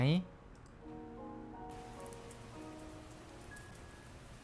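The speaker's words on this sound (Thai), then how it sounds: "คืนนี้พักผ่อนพร้อมฟังเสียงฝนและดนตรีกันหน่อยดีไหม" Soft, steady rain patters gently in a video game night scene, a faint even hiss beneath quiet melodic music tones.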